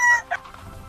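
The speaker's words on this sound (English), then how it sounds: "The rooster wakes up the farm." A brief, loud cluck-like call from a rooster, close and alone, lasting under a second.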